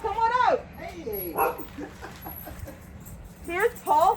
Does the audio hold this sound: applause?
no